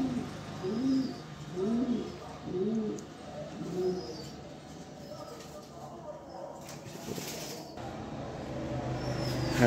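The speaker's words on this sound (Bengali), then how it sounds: "এটা ডাইরেক্ট চায়নার কবুতর, ওর পায়ে চায়নার ট্যাগই লাগানো আছে" A pigeon from China with a leg tag coos close by in several rolling, throaty phrases early on; the cooing fades into quieter background noise later.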